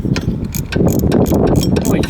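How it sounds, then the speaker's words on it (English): A ratchet wrench turns a bolt on a 2003 Honda Accord, giving a close, loud series of rapid mechanical clicks in short bursts, with faint voices in the background. "It still ratchets."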